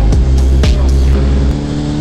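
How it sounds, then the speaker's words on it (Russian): A motorcycle engine revved hard near its redline, a loud continuous roar with sharp rising and falling bursts of throttle, close by and alone with no talk. "Движок на красной зоне."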